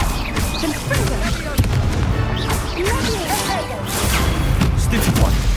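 Confringo fire spell explosions in Hogwarts Legacy, a string of booming blasts with crackling bursts layered over game music, loud and close, repeating every second or so.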